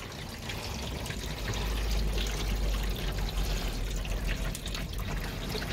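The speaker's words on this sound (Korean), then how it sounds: "지금 물을 뿌리는데 바로 물이 들어오죠." Water sprayed onto the trunk of a Hyundai Grandeur HG during a leak test, a steady close hiss and splash of spray running continuously without pause, with no talking.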